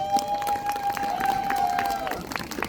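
Villagers at an outdoor community general assembly and festival give a round of scattered clapping mixed with crowd noise and a sustained tonal whine running underneath.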